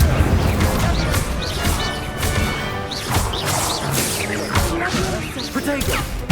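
An Incendio fire spell strikes during a Hogwarts Legacy crossed-wands dueling match, giving loud repeated smashing impacts and whooshes over busy game effects, with a voice speaking in between.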